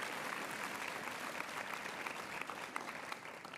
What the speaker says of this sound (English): Go ahead and applaud that for him.